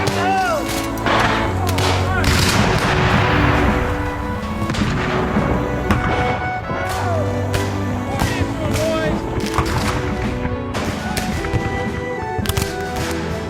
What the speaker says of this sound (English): As the fighting rages in the Slaughter Pen, General Rosecrans masses fresh troops and artillery